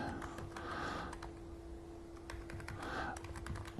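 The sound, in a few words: typing on a computer keyboard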